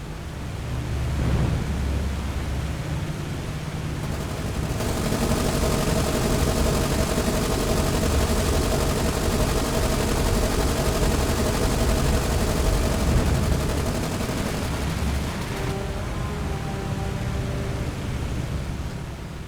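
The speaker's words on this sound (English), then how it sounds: "Get into formation and strafe that down." Sustained dense gunfire from aircraft strafing a warship in the naval combat game War on the Sea, a loud continuous rattle of machine guns over rumbling engines for most of the stretch, with no talk.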